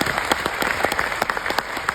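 Audience applause at a business event in Mumbai, dense continuous clapping from a crowd, brisk and fairly close, with no talk over it.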